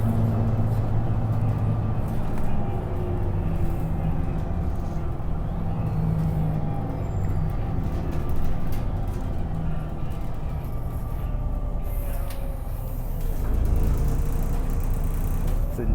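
A Transperth bus on route 442 between Whitfords Station and Warwick, heard from inside as a steady low engine drone and road rumble with a gear whine rising and falling, loud and continuous.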